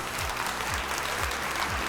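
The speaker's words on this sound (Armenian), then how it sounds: "Ծափարենք մեր ժյուրին։" An audience at a talent show audition round applauds the jury, a dense continuous clapping wash at moderate level with a faint murmur of crowd underneath.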